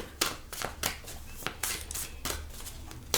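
Soft, intermittent card shuffling close up, several brief papery bursts spaced unevenly, quiet overall.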